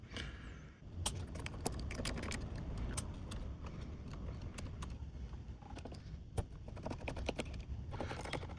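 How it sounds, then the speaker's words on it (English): A screwdriver works screws out of a TEAC C-3 tape deck, giving faint scattered clicks and scrapes with quiet pauses and no talk. "So I'm just gonna do these 2 first with the right screwdriver."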